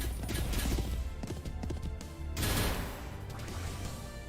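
Horse hooves clip-clop in quick bursts in a video game, loud and close, with crashing impacts mixed in and a brief lull midway.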